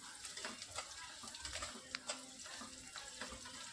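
Sliced onions and spices frying in a pan for Hyderabadi bagara rice, a steady close sizzle with scattered crackles and a few sharp clicks of stirring.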